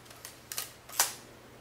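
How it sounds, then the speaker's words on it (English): Mechanical clicks from a Nikon F film camera as the film is advanced and the shutter released, the mirror flipping up: a few quick, close, crisp clicks ending in one sharper snap. "When you advance the film and press the shutter release, the mirror flips up and stays there."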